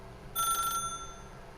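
A telephone rings once inside a quiet office building, a short bright electronic trill lasting under half a second over a low room hum.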